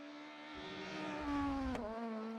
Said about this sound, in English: I love that sound of them hitting the rev limiter